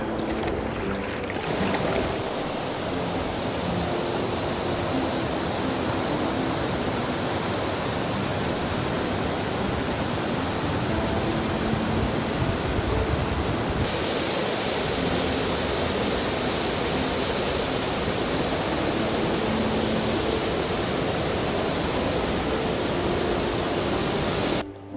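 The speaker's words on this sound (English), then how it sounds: "Definitely sounds like the waterfall." A waterfall with quite a drop roars on a late-fall canoe trip, a loud, constant broadband rush of falling water filling the whole stretch without a break.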